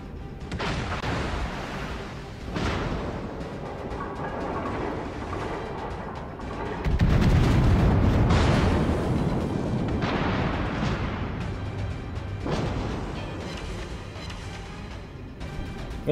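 Heavy booming battleship cannon blasts from South Carolina in World of Warships roll out in a loud, sustained barrage, with deep rumbling explosions and a few sharper reports, game-like and dense.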